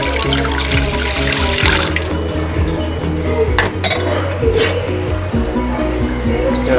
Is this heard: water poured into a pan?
yes